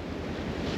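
Strong wind during a blizzard near the eastern end of Lake Erie, a loud, steady roar and buffeting against the microphone with no gaps, close and unbroken.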